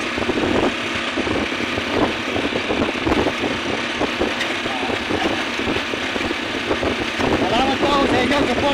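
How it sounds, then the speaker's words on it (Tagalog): A motorcycle tricycle's engine drones steadily during a ride toward Baliwag, Bulacan, a continuous close rumble with road and wind noise and occasional voices. "tayo po ay nakasakay na sa tricycle pauwi ng Baliwag, Bulacan"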